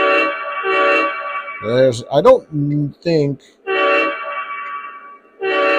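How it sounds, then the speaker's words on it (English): Horn blasts from an O-gauge model train locomotive on a home layout, a few short harmonic toots and one longer sounding bunched in the middle, with someone talking before and after. "So let's do some of the horns and stuff."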